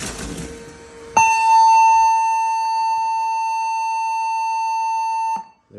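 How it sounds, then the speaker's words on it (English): A single long, steady electronic beep sounds from a retro computer on power-up, a clear loud tone lasting about four seconds before cutting off after some handling noise. "There's the beep, and you get a no signal on the monitor."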